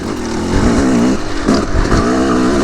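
A dirt bike engine revs and drones loudly up close while being ridden, its pitch rising and falling as the rider works the throttle, with no talking over it.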